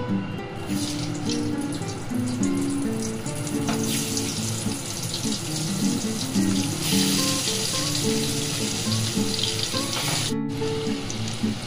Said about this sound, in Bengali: এবার আমি আলুগুলোকে এক এক করে ছেড়ে লাল লাল করে ভেজে নেব।